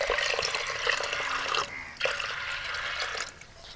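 Water is poured from a glass into a pot of whole masoor lentils, a close, steady splashing gush that dips briefly and then resumes before tapering off near the end.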